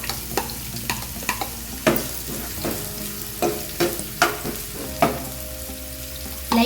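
Onion, carrot and mixed vegetables fry in a pan for vegetable pasta, with a steady sizzle broken by regular clacks of a spatula stirring and scraping, close and with no voices.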